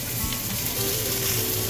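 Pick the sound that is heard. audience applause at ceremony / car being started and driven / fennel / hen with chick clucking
fennel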